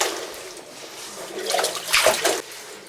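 Water poured into a narrow five-inch hole in the ground while searching for an underground cave: a continuous splashing trickle swells into louder gurgling bursts near the end, close by and alone.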